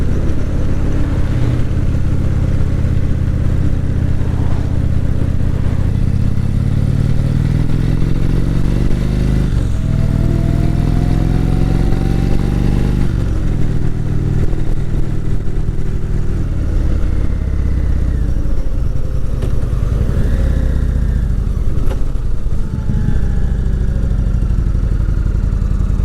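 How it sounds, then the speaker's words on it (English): A motorcycle engine runs steadily throughout while riding, rising and falling in pitch as it accelerates and shifts, with some rattling clatter and a squeak, close and loud. "this is my last ride on this motorcycle"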